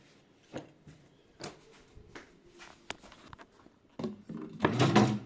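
A drawer pulled open during a search for a TV remote during a power outage, heard as scattered soft wooden knocks and thumps, then a louder rummaging rustle at the end.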